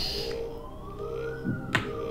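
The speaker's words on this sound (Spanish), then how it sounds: "La ambulancia" An ambulance siren wails with a slow rising tone, heard at moderate distance beneath background clutter and a couple of brief knocks.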